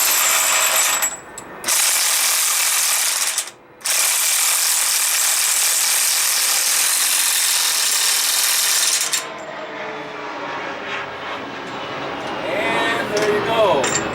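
A ratchet runs up the center bolt on a 2006 Trailblazer front wheel bearing, giving a steady, loud mechanical rasp close by, broken by two brief pauses before fading into lighter rattling and clicking.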